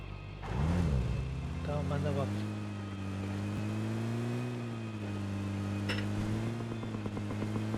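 A car is driven in the mobile game PUBG Mobile, its engine droning steadily with shifting pitch, while a person talks over it.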